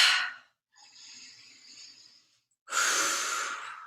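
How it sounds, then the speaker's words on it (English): Deep breathing during a yin yoga breathing exercise, with three close, airy breaths: a strong exhale, a softer, longer one, then a strong final exhale after a short silence. "Exhaling out, maybe a bunch more."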